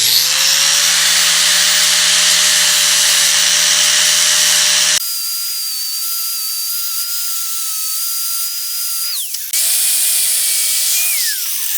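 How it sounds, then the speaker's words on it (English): A flap disc on an angle grinder whines loudly against metal on a 1973 Mercedes 450SL, a steady high-pitched grinding that breaks off, resumes at a different pitch, then winds down and starts again. "let me change out for a flap disc"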